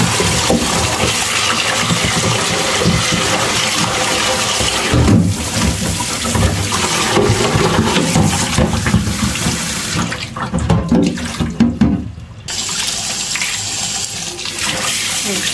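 Water from a kitchen tap runs steadily into a sink while carrots are washed, a loud, continuous close splashing rush that thins out briefly near the end.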